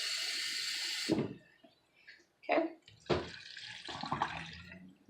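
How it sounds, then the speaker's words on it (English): Water poured into a blender batch of agua de melón made from melon, sugar and water, running in a few bursts with splashing, while a person speaks briefly nearby. "Now we're going to go ahead and add some more water"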